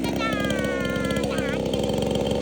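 A person vocally imitates a chainsaw at a farm. A continuous loud buzzing drone rattles with a revving whine that rises and wavers, held close for the whole stretch.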